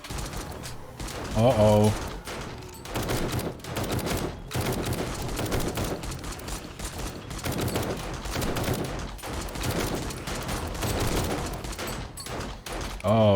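Automated turrets firing at zombies in 7 Days to Die, with rapid, continuous gunfire that stays loud and dense throughout and a voice reacting briefly over it.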